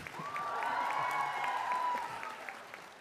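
Lively audience applause at a talk on engagement, with cheering and whooping over steady clapping that thins slightly near the end.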